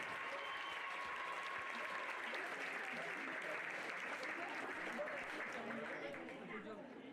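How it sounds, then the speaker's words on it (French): Audience applause at an equestrian pony eventing award ceremony, a dense, steady wash of clapping from a sizable crowd that holds evenly and fades slightly at the end. "Applaudissements pour Valentine de Bureau."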